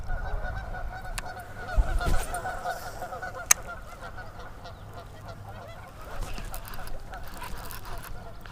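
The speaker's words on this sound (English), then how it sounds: "I feel like there's a goose gang coming to take us all away." Geese honk repeatedly in the distance near a fishing bank, a gaggle of brassy calls that rise and fall over several seconds, with faint background noise.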